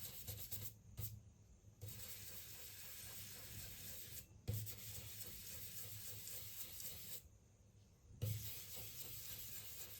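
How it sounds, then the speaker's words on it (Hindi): A hog hair brush blends pencil drawing on paper in a quiet room: soft, dry rubbing strokes repeat with brief pauses between them. "अब मैं यूज़ करूँगा ये hog hair brush, just blend करने के लिए"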